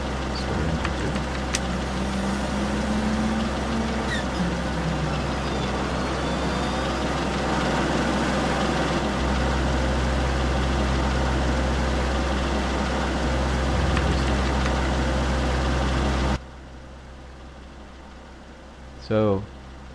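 A P-38 engine in a flight simulator game idles as a steady low drone with a broad mechanical hum. The sound stays constant at moderate loudness until it cuts off sharply near the end, leaving quieter room noise and a brief knock.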